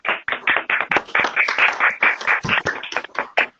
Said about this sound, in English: we ought to have active applause for you and your efforts